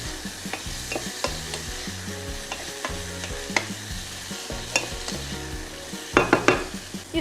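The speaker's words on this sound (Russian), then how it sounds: "Перемешаем." Shrimp sizzling in a frying pan, seasoned with salt and pepper and stirred with a utensil; a steady frying hiss runs throughout under scraping stirring strokes, with a few louder clinks of utensil on pan near the end.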